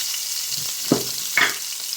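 Green chilli and ginger fry in hot oil for a potato and cauliflower curry, a constant close sizzle with a couple of soft stirring knocks.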